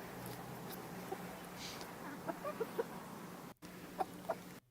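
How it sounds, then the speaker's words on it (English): Chickens cluck softly in a yard, scattered short clucks at a moderate distance over steady low background hum, with no talk. "I fucking love chickens."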